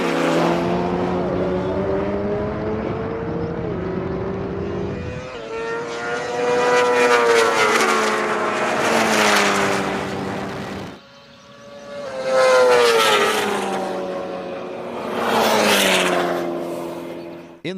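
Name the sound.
McLaren 720S V8 and BMW S1000RR launch race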